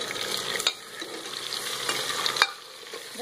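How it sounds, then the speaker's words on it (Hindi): Meat for aloo gosht fries and is stirred in a hot pan, a steady close sizzle broken by a few sharp scraping stirs of the spoon, with no voices. "और हमें इसे 2 मिनट तल लेना है।"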